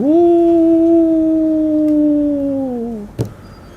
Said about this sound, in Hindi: बाहर से थोड़ी थोड़ी देर बाद किसी बेचारे आवारा कुत्ते की आवाज़ आ रही है